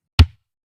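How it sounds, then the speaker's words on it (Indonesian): A single kick drum hit from the Real Drum app, a short punchy thump with a deep low-end boom that cuts off quickly into silence, with no voices. "Kemudian ketuk kick."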